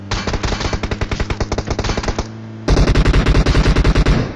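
Rapid automatic gunfire in the PUBG battle game, two long bursts of evenly spaced loud shots with a brief pause between them, close up and with no voices.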